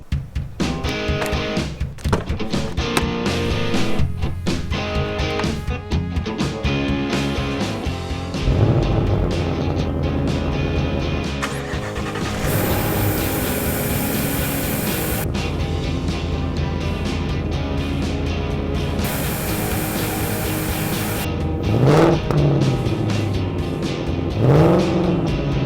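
Ford Mustang fitted with a K&N cold air intake, engine revving repeatedly through loud rising and falling bursts, with steady idle stretches between throttle blips and a couple of sharp climbs near the end.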